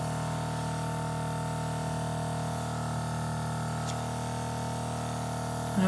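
An airbrush sprays liquid foundation in a steady, even hiss that runs unbroken from start to finish, close and moderately loud.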